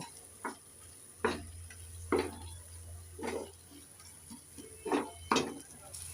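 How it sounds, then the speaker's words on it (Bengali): Chopped tomatoes with ground roasted cumin are being stirred in a frying pan: a handful of spaced, quiet spatula scrapes and taps over a faint sizzle and a low background hum. "কেটে রাখা টমেটো একটু নেড়ে চেড়ে দিয়ে দেব"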